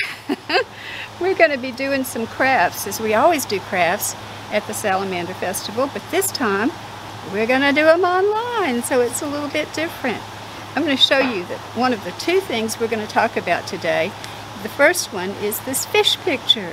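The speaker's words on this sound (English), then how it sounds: "You can probably hear the beautiful waterfall in the background." A garden waterfall at the Birmingham Botanical Gardens pours into a pool, a steady soft rush of falling water beneath a person talking continuously close to the microphone.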